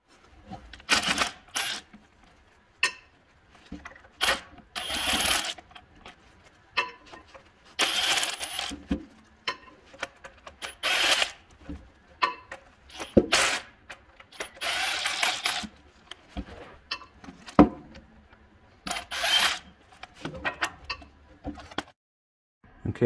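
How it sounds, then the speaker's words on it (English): Sharp metallic strikes of a hammer on a brass punch, driving the reverse idler out of a Caterpillar RD-4 transmission, ringing out in irregular bursts with short pauses between blows. "I'm going from the inside of the brass punch, driving it outward."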